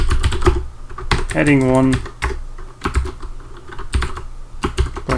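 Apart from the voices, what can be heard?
typing on a computer keyboard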